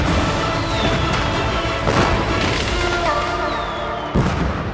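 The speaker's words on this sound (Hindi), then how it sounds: "अरे बंद करो आतिशबाजी।" Fireworks go off at a celebration in a dense, noisy barrage, booms and crackles overlapping with faint whistling rockets rising, loud and continuous with a few sharper bursts.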